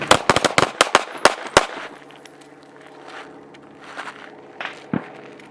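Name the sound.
gunshots during desert shooting training drill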